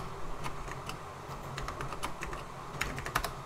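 Someone types a captcha into an online application form on a computer keyboard. Scattered, fairly quiet keystrokes tap at an uneven pace, with a quick burst of presses near the end.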